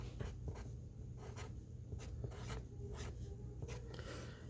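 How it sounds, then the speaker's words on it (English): A pen writes an answer on a paper sheet, giving close, quiet scratching strokes in short irregular bursts, with no speech. "So ED is what we want, and we're going to write this here."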